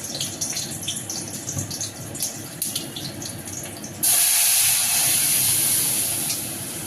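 Boiled dal hits hot oil tempered with cumin, dried red chili and a slit green chili, bursting into a loud, steady sizzling hiss that follows some quieter kitchen clatter.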